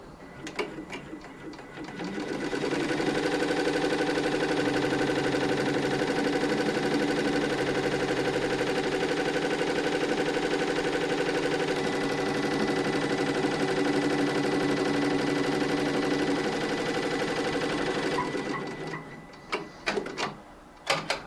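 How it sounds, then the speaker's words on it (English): An embroidery machine sews an applique outline stitch, a steady dense mechanical whirr running loud and continuous for about fifteen seconds before stopping, followed by a few sharp clicks near the end. "the machine will first sew an outline stitch so that we know where to place this applique material"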